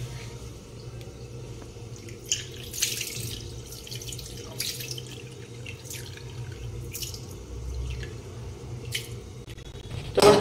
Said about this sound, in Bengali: এখানে গোবিন্দভোগের চালটা এখন ধোয়া হচ্ছে